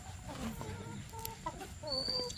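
A hen clucks in short, halting calls, several brief notes close by and fairly quiet, with soft background noise.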